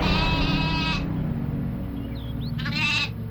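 Sheep bleating as a sound effect in an animated story, two wavering bleats, one at the start and a shorter one near the end, loud and close over a low background hum.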